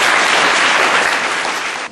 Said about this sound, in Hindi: एक बार फिर से ताली।